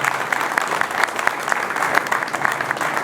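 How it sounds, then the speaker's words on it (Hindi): Loud audience applause at a talk in India, dense continuous clapping from many people close by, steady throughout without a pause. "उनके लिए एक जोरदार ताली हो जाए।"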